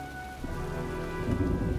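Heavy rain pours steadily with a low rumble of thunder building beneath it, a dense, continuous storm wash from the Heavy Rain video game, with no voices.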